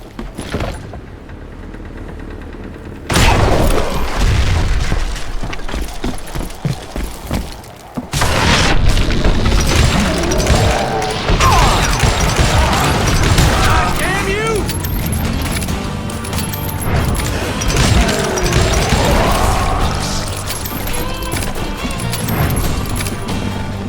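Dynamite blasts in the Western shooter Call of Juarez: Gunslinger, loud booming explosions followed by rumbling debris and gunfire-like clatter, with a voice talking over parts of it.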